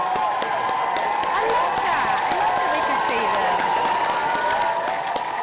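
A studio audience applauds the gallery crew on a Friday night live TV show, with continuous clapping and cheering under music and a host talking over it throughout.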